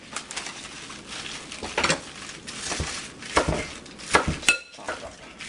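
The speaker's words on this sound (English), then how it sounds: "I'm just going to chop it up a little bit just to make it a little bit more manageable" A knife chopping spinach on a cutting board gives irregular sharp taps and knocks, some clustered, others spaced apart, with faint clinks of kitchenware in a quiet room.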